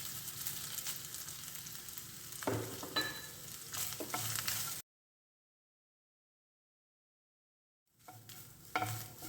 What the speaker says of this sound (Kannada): ಇದೊಂದು 30 ಸೆಕೆಂಡ್ಸ್ ಫ್ರೈ ಮಾಡ್ಕೊಬೇಕು. ಈಗ ಇದಕ್ಕೆ ಒಂದು 3/4 ಕಪ್ ಅಷ್ಟು ತೆಂಗಿನಕಾಯಿ ಹಾಕ್ಕೊಳ್ತಾ ಇದ್ದೀನಿ.